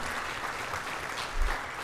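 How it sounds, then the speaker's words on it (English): Conference audience at a business education gathering applauding a speaker, a brief, even, moderately quiet patter of clapping with a low thump near the end and no talk. "Give him a nice round of applause"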